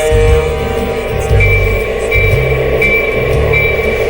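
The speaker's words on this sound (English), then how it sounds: "Train number 60337 and 7938. I'm now departing on track 2." A LEGO toy train pulls away from a stop on a model track, giving a loud, steady mechanical rumble with a regular, repeating clack.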